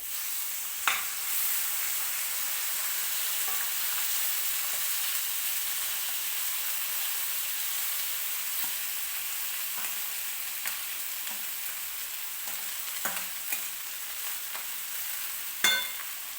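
Cooked rice is tipped into a pan of hot tempering for lemon rice, giving a soft continuous sizzle and hiss with a few sharp clinks and scrapes of a spoon against the pan, close and moderately quiet.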